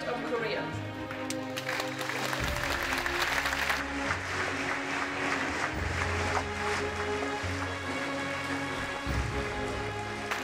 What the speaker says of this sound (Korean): 진심 어린 환영의 박수가 행사장을 가득 채웠다.